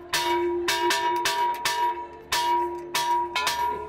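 A church bell in Ouro Preto, Brazil, rings in quick repeated strikes, each clang leaving a bright ringing tone that overlaps the next, loud and close.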